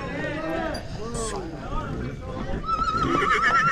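Horses neigh with loud, shaky whinnies at an outdoor horse fair in Osorhei, Bihor, Romania. Hooves clop and a crowd chatters in the background, and people talk nearby.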